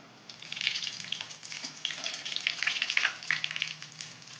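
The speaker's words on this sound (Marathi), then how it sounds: "मिडियम फ्लेमवर चार असे डीप फ्राय करून घेऊया दोन्ही साईडनी छान डीप फ्राय करून घ्यायचे" Veg cutlets deep-fry in oil over a medium flame, bubbling with an uneven, lively crackle that swells and fades in close, busy bursts.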